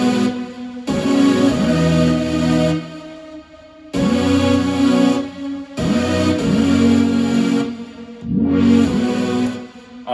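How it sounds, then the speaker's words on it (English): Layered future bass synth chords for an EDM drop, played in Logic Pro X: four long, thick sustained chords with wide, shimmering stacked tones and short breaks between them, loud and up front with no talking. "I've layered these chords and now they sound like this"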